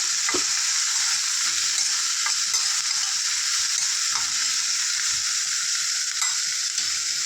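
Mint leaves and coriander fry in a pan for an ivy gourd chutney, giving a steady, loud sizzle with repeated close stirring scrapes throughout and no talking.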